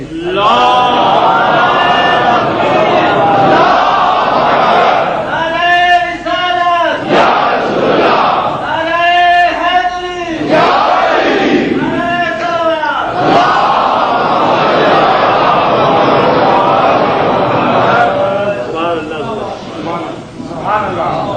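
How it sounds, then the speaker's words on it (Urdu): A crowd at a majlis chants religious slogans in turns, loud massed voices rising in repeated call-and-response bursts with crowd murmur in between, tapering off toward the end. "اب سلسلے سے نعرے لگا دیجیے"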